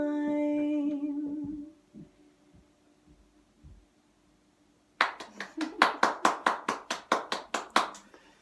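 A small audience claps in a radio studio, a brief burst of about a dozen distinct hand claps, close and crisp, following a sung note and a quiet stretch.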